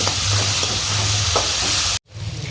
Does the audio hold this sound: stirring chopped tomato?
yes